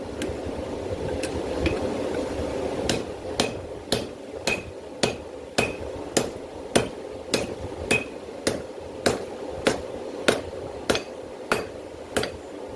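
A hammer pounds hot metal on an anvil to draw out a forged herb chopper, ringing in a steady series of about twenty sharp, evenly spaced strikes close by.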